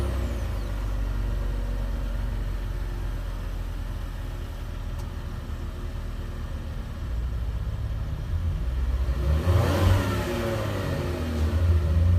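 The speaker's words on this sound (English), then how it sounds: "all you really need to do to start the car is make sure the key's on the inside of the vehicle, put your foot on the brake, and hit that start button" A 2018 Chevrolet Impala engine runs steadily after a push-button start, with a low continuous rumble and a brief rise in intensity near the end, heard alone without talk.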